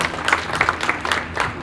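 A crowd applauds at a party celebrating a Bollywood event, with brief, fairly close clapping that holds at a steady level throughout.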